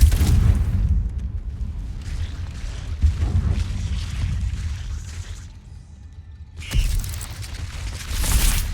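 Confringo fire spell in Hogwarts Legacy blasting inside a cave, heavy booming bursts and rumbling roar with a sharp flare near the end, loud and close, no speech.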